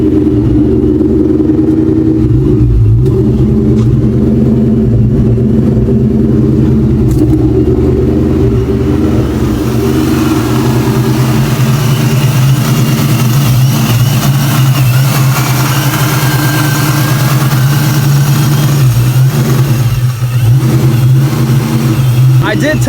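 A boosted NewEdge Ford Mustang engine runs loud and close, a steady heavy idle that climbs into a rougher, brighter rev partway through and holds there.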